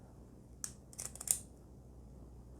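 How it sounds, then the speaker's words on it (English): A few small, crisp mechanical clicks in quick succession from the aperture ring of a Konica 28mm f/3.5 lens, close up and quiet, with a brief rustle around them. "aperture sound okay, it's clicking nicely"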